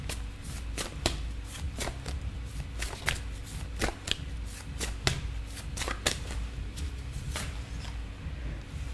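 Tarot cards shuffled close up in a steady run of crisp riffling slaps and flutters, sharp clicks recurring about every half second over a soft papery rustle, with no voices.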